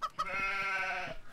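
A sheep creature in the creature-building video game CHKN gives a single drawn-out, wavering bleat of about a second, loud and close with no talk over it.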